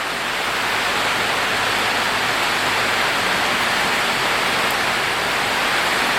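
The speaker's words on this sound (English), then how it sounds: "When it rains like this, you actually can't see anything. It's just there's so much rain." Heavy tropical rain pours down over a city on a stormy night, a dense, steady roar of downpour that fills the whole clip without a break and stays loud and close throughout.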